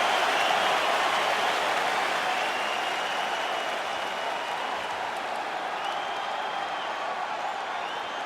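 A capacity arena crowd in the UFC 5 video game applauds and cheers before a middleweight championship fight, a dense, steady roar of clapping that stays loud throughout and tapers only slightly.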